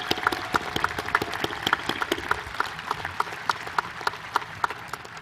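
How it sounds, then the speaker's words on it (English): At a Mona Shores Class of 2020 commencement, the audience applauds the teachers with a steady, moderately loud patter of many hands, and distinct individual claps punctuate it throughout. "Let's give our teachers from Campbell, Churchill, Ross Park, Lincoln Pell, the middle school and the high school a round of applause."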